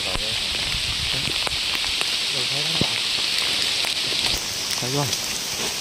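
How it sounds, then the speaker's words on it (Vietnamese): Rain pours steadily onto foliage and surfaces in a forest during a wild jungle fowl hunt, a dense constant hiss while a few people talk briefly over it. "trời đổ mưa"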